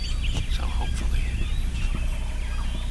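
Several wild turkeys gobbling around a hunter during a spring hunt, with repeated rattling gobbles from different directions, some near and some farther off, over a steady low background.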